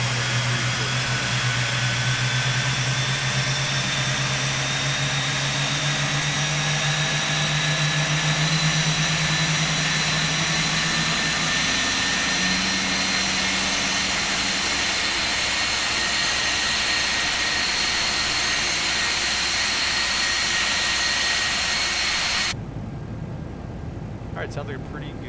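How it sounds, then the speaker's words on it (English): Boeing 747-8 jet engines spinning up in a flight simulator game, a loud steady turbine roar with rising whine tones that cuts off abruptly near the end. "sounds like a pretty good engine start there"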